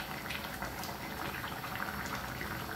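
Pot of cassava leaves with fish boiling, a dense steady bubbling and simmer heard up close and continuously without pauses.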